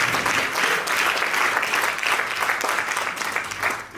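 Audience at a farewell dinner clapping their hands, a dense, steady round of applause filling the room for a few seconds.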